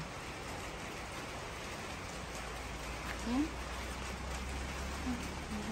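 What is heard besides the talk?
light rain falling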